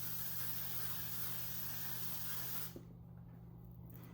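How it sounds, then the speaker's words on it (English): Makeup setting spray hisses steadily from a freshly wiped nozzle, a loud continuous spray that cuts off abruptly near the end, leaving quiet room tone. "just wipe off the nozzle and that way you get like a smooth spray"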